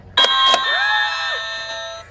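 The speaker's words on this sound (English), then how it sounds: "And then I've got this doorbell right here. I love this doorbell." An electronic Halloween novelty doorbell chimes with a couple of quick rings, followed by a lingering warbling synthetic tone that fades out, no talking.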